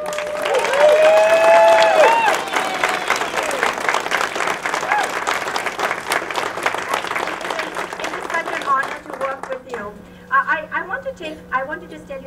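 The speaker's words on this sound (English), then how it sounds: "everyone just give them a round of applause" A crowd at a library centennial launch party applauds the staff with a loud, full burst of clapping and some cheering, with a voice ringing over it at the start, then it thins into scattered claps that fade.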